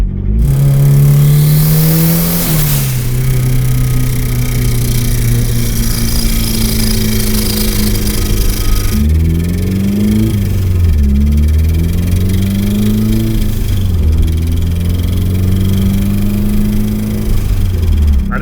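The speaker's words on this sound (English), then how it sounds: "Sounds like a rod knock." A turbocharged, high-compression 1.6L Mazda Miata engine with a suspected rod knock runs loud and close, droning steadily then revving up and down in several swells with a rough, knocking undertone.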